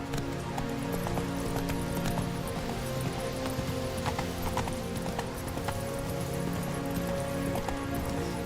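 Steady, rhythmic hoofbeats of the horse Roach galloping in The Witcher 3: Wild Hunt run continuously. Near and even under a constant bed of game ambience and music, with no talking.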